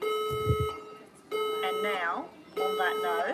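A fire alarm sounds in repeated loud electronic tones, with a steady high pitch and gaps between bursts, while someone talks over it indoors.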